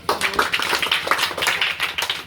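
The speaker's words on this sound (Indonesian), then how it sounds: "tepuk tangan buat" Quick, uneven clapping from a small group of students in a classroom, a short burst of overlapping claps close by.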